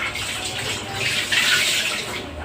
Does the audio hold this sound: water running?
yes